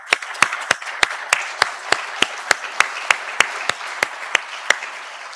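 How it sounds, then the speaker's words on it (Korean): Congregation applause welcoming new members at a Korean Methodist Sunday worship service: a steady, rhythmic unison clapping, about a dozen sharp, evenly spaced claps, close and fairly loud. "여러분 뜨거운 박수로 환영하도록 하겠습니다"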